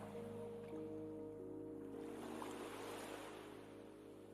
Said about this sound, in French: Le son des vagues vous berce